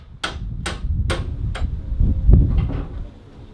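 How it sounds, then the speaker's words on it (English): A heavy bulkhead is pried and jimmied off a Series 1 Land Rover wagon during a stripdown, four sharp metallic knocks in quick succession followed by scraping, clunking metal close by. "a chunky bulkhead gets jimmied away from the wagon"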